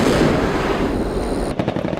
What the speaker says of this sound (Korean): 갑자기 폭발음이 들려오고 진동으로 땅이 흔들리며 뿌연 연기가 하늘을 뒤덮기도 한다.